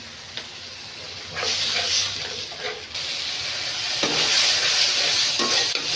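Green chilies and then dried chilies are added to beetroot frying in a pan, bringing a steady, close hissing sizzle that swells in bursts as the pan is stirred and stays loud to the end.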